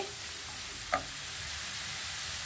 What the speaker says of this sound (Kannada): ಹಾಗೆ ಈಗ ಟೊಮೊಟೊ ಹಾಕ್ತಾ ಇದ್ದೀನಿ. ಸ್ವಲ್ಪ ಇದು ಕೂಡ ಫುಲ್ ಫ್ರೈ ಆಗಬೇಕು ಚೆನ್ನಾಗಿ.